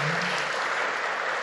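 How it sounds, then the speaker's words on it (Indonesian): Loud, dense clapping from an indoor audience at a children's Saturday gathering, filling the whole moment as a steady wash of applause with no pauses. "Coba tepuk tangan dengan keras."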